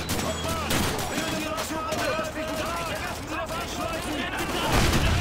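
Gunfire in the video game Call of Duty 2, with rapid bursts of shots crackling continuously beneath someone talking over the action, and a heavier boom near the end.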